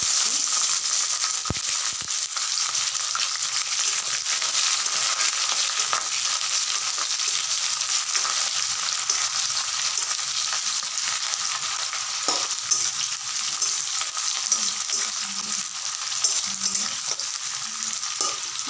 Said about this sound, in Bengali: কালো জিরা আর 2টো শুকনো লঙ্কা ফোড়ন দিয়ে দিচ্ছি। এরপর কেটে রাখা পেঁয়াজগুলো দিচ্ছি।